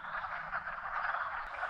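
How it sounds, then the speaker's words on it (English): A dense, loud chorus of spring peeper frogs, countless overlapping high calls blending into a continuous shrill wall of sound. "there are thousands of these little frogs, and that's what that noise is."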